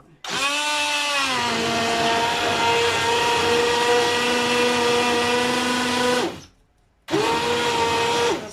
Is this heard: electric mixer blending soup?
yes